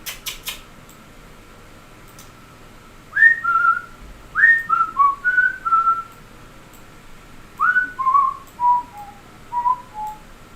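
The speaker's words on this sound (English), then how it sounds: "Gives a whistle out." A person whistles a series of short, rising-and-falling tonal calls in two bursts, close and clear against a quiet background, after a few faint clicks at the start.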